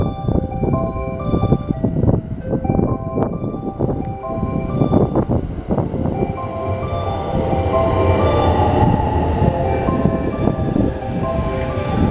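A Thunderbird limited express train bound for Osaka rolls into Omi-Imazu Station on the Kosei Line with a heavy rumble and rattling wheels, its metallic squeal rising as it slows near the platform.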